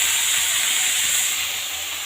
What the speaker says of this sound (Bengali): আর লবণ, হলুদ লবণ দিয়ে এটাকে ভালো করে ভাজবো।